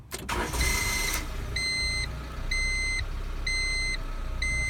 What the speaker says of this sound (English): And just like that, the car starts, no problem.